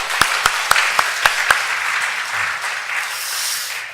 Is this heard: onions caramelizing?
no